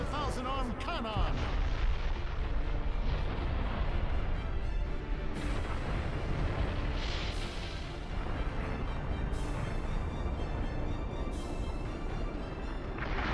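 Thousand-arm cannon attack in the video game Naruto Storm 4, a sustained roaring barrage of heavy booms and blasts that rumbles continuously, loud and dense, with a voice shouting at the start.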